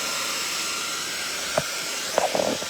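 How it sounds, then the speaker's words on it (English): A dryer blows hot air over drying paint, giving a steady, loud rushing hiss throughout, with a few faint taps and knocks near the end. "Let me hit this with the dryer again."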